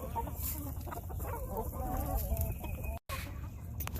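Chickens cluck and chatter close by in a steady murmur, with scattered bird calls and a faint outdoor hum underneath.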